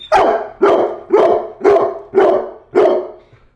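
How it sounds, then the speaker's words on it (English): A dog barks six times in a steady rhythm, each bark loud and close with a short decaying tail, the last one slightly delayed, and no voices over it. "Why must you bark?"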